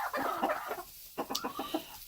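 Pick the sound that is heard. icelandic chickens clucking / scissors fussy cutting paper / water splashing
icelandic chickens clucking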